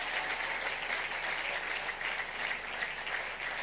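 Many hands clapping at once in a church worship gathering, dense and even for several seconds with no clear voice above it.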